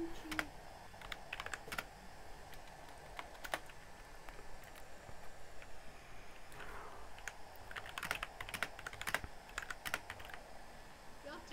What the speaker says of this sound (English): You're typing something at me